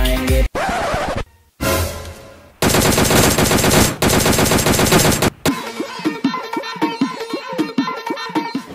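Rapid automatic gunfire from the PUBG video game comes in loud, dense bursts broken by short gaps, then turns into a rhythmic run of sharper individual shots near the end.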